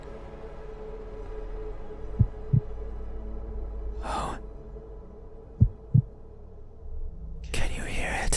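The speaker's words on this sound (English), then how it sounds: "You have a heartbeat!" A heartbeat in the indie horror video game (Don't) Open Your Eyes comes as two double thumps, low and close, set against a steady hum, with a brief breathy voice and a short exclamation between them.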